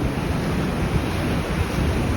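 Waves at Ya Nui Beach in Phuket, Thailand, a continuous broad wash of surf mixed with wind buffeting the microphone, steady and fairly loud with no voices.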